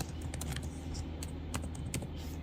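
Rapid typing on a computer keyboard, with crisp, close clicks in quick, uneven bursts and short pauses, alone with no talking.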